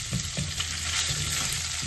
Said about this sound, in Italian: andiamo a profumare lo spezzatino e ammorbidire naturalmente la cipolla